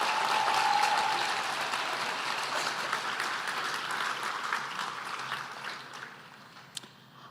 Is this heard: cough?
no